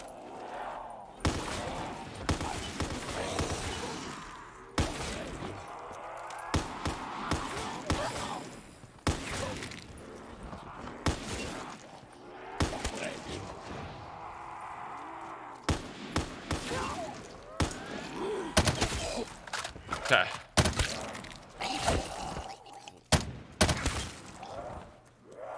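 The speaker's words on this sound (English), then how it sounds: "I really like this minigun" Sustained bursts of minigun fire in Call of Duty zombies mode, heavy rapid gunfire that stops and starts across the whole stretch, with game sounds mixed in and a player talking at times.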